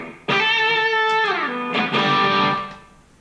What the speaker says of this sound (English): If I switch to my other channel, that delay is going to keep ringing